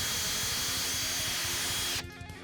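A DeWalt 20V MAX XR brushless drill driver runs steadily for about two seconds with a dense whirring, hissing whine. It then stops abruptly, leaving a quieter room with faint residual noise.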